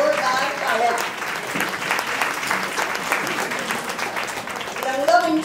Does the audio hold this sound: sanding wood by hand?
no